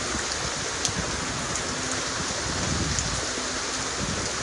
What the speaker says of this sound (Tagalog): Lumalaki na dahil nga sa lakas ng ulan